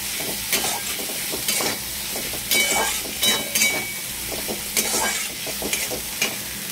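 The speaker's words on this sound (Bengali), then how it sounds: "আর একটু ভাজা ভাজা করব।" Large onion pieces fry in spiced oil for prawn do pyaza, a soft steady sizzle broken by repeated scraping stirs of a spoon against the pan.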